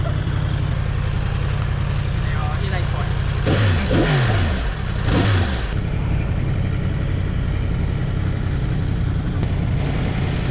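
Motorcycle engine droning steadily while riding, with two brief rising revs mid-way over constant wind and road noise.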